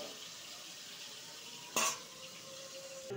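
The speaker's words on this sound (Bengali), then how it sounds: "লঙ্কা দিয়ে আমি বোয়াল মাছগুলি ভেজে নিচ্ছি" Boal fish frying in oil under a covered pan gives a quiet, muffled sizzle, broken by one sudden loud pop or clatter near the middle, with no talk.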